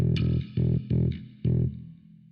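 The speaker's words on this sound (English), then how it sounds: "I don't remember there being reverb on it." Electric guitar chords played through effects with reverb, four short strummed stabs in an uneven rhythm, each leaving a ringing tail that fades away at the end, loud and alone.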